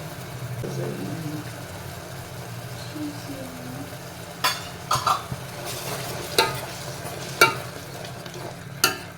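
Spaghetti in tomato sauce with Szechuan sauce and chilli flakes is stirred in a pan, with a soft continuous sizzle and several sharp utensil scrapes and clicks against the pan.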